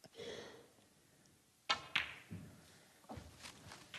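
Snooker balls click together in a gentle cannon shot during a professional tournament match at the Northern Ireland Open, two sharp knocks in quick succession, then quieter clicks and soft knocks over light background noise.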